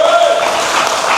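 Congregation in a church service clapping for Jesus, a dense, steady wash of many hands applauding at close range, with voices mixed in throughout.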